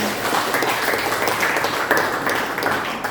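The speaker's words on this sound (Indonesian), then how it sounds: "Oke, cukup. Tepuk tangan." A school debate audience applauds, a dense, even burst of many hands clapping, fairly loud and sustained with slight swells throughout.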